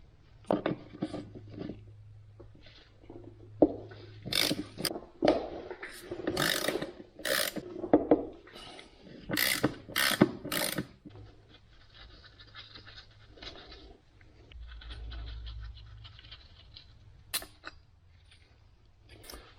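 A ratchet loosening 13 mm transfer case bolts on an Audi A8 D4, with bursts of rapid close clicking and pauses between them, then quieter handling noises and a low rumble near the end.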